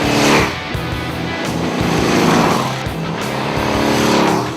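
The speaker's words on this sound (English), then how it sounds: "The deep rumble was accompanied by the roar of the intake on the Street Bob." A loud, deep 2012 Harley-Davidson Street Bob motorcycle engine roars steadily up close, its rumbling exhaust swelling and easing slightly over a few seconds, with intake roar.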